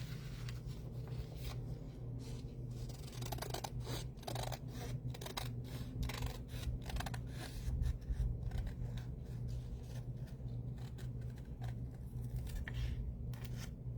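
Scissors snip repeatedly through a handmade flip flop tag, a steady run of close, crisp cuts over a low room hum, with no talking.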